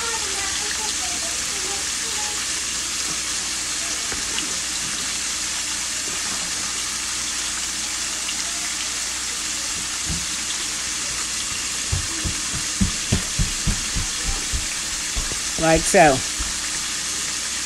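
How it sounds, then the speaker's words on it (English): Seasoned flour, the same used for dredging chicken, frying in hot fat in a pan, giving a steady close sizzle throughout, with clattering stirring taps near the end and a brief voice. "I'm going to cook that flour, that rawness off the flour."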